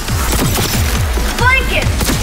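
Rapid pulse rifle fire in a Cyberpunk 2077 Phantom Liberty firefight, a steady stream of loud, closely spaced shots with booming impacts, heard under talk throughout.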